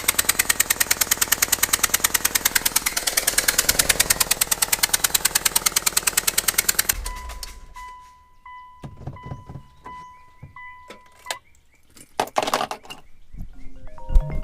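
A Mitsubishi Lancer Evolution VIII engine, started after a year sitting in a garage, idles loudly with a rapid, steady pulsing for several seconds, then cuts to quieter clunks and faint background noise.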